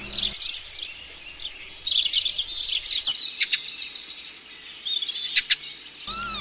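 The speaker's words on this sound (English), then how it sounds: "These cheeky sparrows have enjoyed the harvest too." House sparrows chirping and tweeting around a harvest field, a busy chorus of bright calls with a few sharper close chirps standing out against quiet background, no talk.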